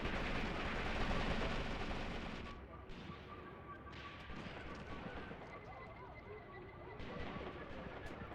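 WW2 battle in the video game Mius Front: dense rattling gunfire and distant artillery booms roll on continuously, loud at first and then settling into a steadier crackle of shots.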